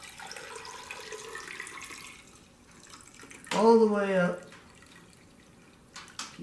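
Liquid is poured into the cylinder of a 1 1/2 HP Lauson model W hit-and-miss engine under restoration, a faint trickling and dripping, with a person speaking briefly partway through.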